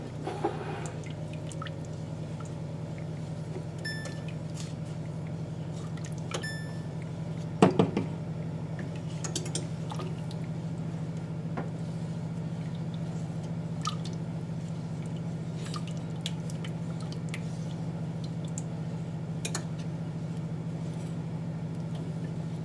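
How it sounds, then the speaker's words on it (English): Melting smoked Gouda stirred slowly and constantly in a pot for mac and cheese, a soft wet squishing and faint scraping over a steady low hum of the stove, with occasional clinks and one louder knock. "So at this point you want to constantly, slowly stir it."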